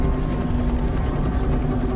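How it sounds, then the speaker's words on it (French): A helicopter sweeps over an area in a steady, loud, continuous roar with a dense low rotor throb and broad engine noise, unchanging throughout, with no voices. "J'espérais que l'hélicoptère allait balayer rapidement la zone"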